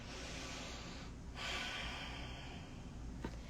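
Two slow, deliberate breaths, a long soft inhale then a gentle exhale, close and quiet against faint room hiss, with no talking.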